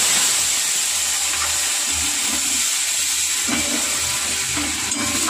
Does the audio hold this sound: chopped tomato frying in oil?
yes